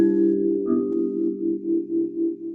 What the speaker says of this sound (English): When completed, the chimes are expected to sound like this.